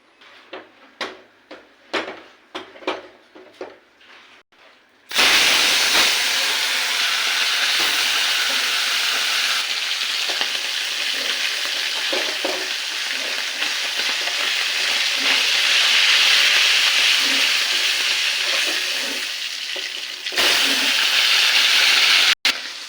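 Bhola fish fries in hot oil in a wok, starting after a few quiet clicks with a loud, steady, close crackling sizzle that holds for about fifteen seconds, briefly dips, then returns strongly.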